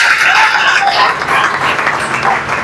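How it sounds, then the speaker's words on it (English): An audience at a Christian youth conference breaks into loud, close applause, the clapping thick at first and tapering slightly toward the end. "Daniel, oh God, please a round of applause for him"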